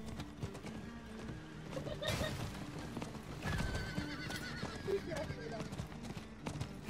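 Horses gallop with rapid clip-clopping hooves and a whinny breaks through, over a busy, layered game soundscape.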